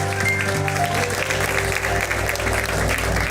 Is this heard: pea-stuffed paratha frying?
no